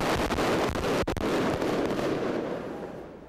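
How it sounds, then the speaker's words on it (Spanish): Fireworks and firecrackers set off by football fans in Rio, a rapid crackling barrage of pops with one sharp bang, fading toward the end. "han estado botando petardos, fuegos artificiales muy,"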